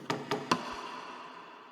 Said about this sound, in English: Into the drop, there's this little drum fill right here.